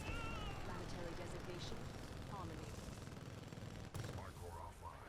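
The Predator cannon, a Titan's rotary gun in the video game Titanfall 2, fires at a Scorch Titan in a dense, unbroken roar of rapid gunfire that runs for the whole stretch amid busy battle noise.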